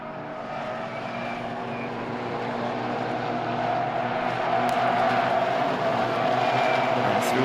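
Suzuki Swift Cup race cars at the Hungaroring, a steady loud roar of several engines at close to middle distance that swells slightly as the pack slides through the final corner, with no voices.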